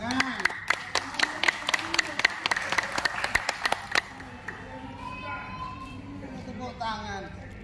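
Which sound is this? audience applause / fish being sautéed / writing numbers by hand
audience applause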